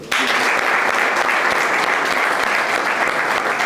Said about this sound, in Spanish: se merece una gran ovación